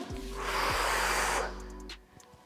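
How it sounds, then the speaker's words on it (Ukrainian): A person doing a strength training workout draws one long, airy inhale that swells and fades over about a second, close to the microphone, with no speech. "Вдих і вдихаємо"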